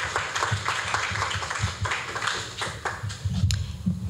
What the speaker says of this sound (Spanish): por favor démosle un aplauso para que pueda ella empezar